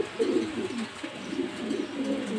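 A pair of racing homer pigeons, an opal-coloured hen and a tiger-marked cock, coo steadily in a continuous run of low, throaty rolls, close by with no talk.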